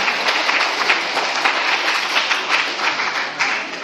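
Audience applause welcoming an honorary association president invited to speak at a church-deacon-hosted speech contest, a dense, steady wash of many hands clapping at close range throughout, with no voices.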